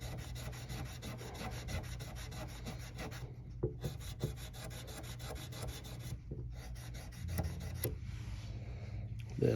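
600 grit sandpaper rubs back and forth over the frets of a Quattro guitar, a close, raspy scratching in repeated strokes with brief pauses between passes.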